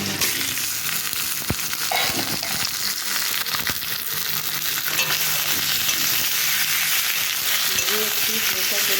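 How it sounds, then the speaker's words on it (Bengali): Spices sizzle and fry steadily in a hot pan as chicken goes in, a loud continuous crackle with occasional scraping stir strokes and no talking. "তো এরপরে আমি চিকেনটা দিয়ে দেব।"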